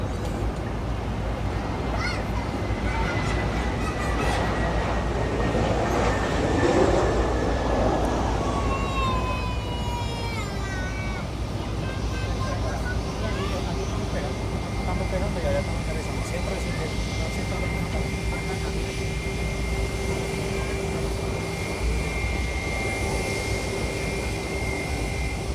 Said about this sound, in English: now landing at the South Complex, we have Delta Airlines Flight 1882 coming in from Atlanta on an A321 Classic.